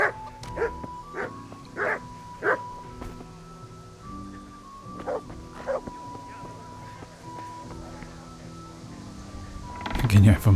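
Village dog in a medieval Bohemian game setting barking repeatedly in short, irregular bursts at moderate distance, with a steady tonal hum behind it and a louder clatter at the end.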